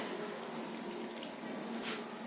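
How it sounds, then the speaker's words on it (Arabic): Cold water poured into a batter of flour and starch, a steady broadband splashing stream running throughout, close and moderately loud with no talk. "كنديروا الماء"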